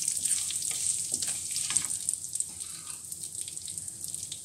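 Whole dried red chillies, fenugreek seeds and spices fry in hot mustard oil, giving a steady close sizzle with crackling pops throughout and no talking.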